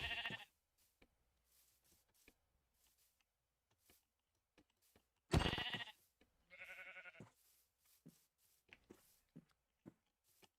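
Sheep bleating in the Minecraft video game, a few short bleats spread across quiet stretches with faint clicks and taps between them, no voices.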